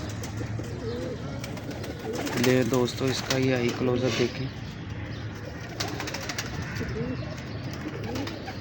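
A breeder pigeon cooing close by in soft, rolling bursts, heard under someone talking over it.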